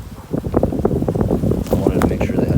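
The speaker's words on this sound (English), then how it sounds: "It was windy this day." Gusty wind buffets the microphone in low rumbling bursts, with a voice partly audible underneath.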